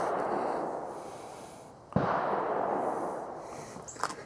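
KSA 722 .22LR rifle fired once at long range outdoors, a single sharp crack midway through over steady wind-like background noise, with a faint knock near the end.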